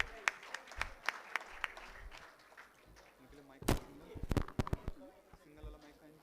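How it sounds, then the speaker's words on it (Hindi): Scattered, fairly faint clapping from an audience at a school annual day celebration, uneven claps building into a brief burst, with voices murmuring underneath. "बस जोरदार तालियां हो जाएं"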